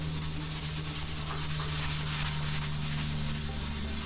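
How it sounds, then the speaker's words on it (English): Steady, even rubbing of worn sandpaper worked by hand over a surface on a Peterbilt 362 truck, a continuous dry scratching with no pauses. "So I've started sanding them."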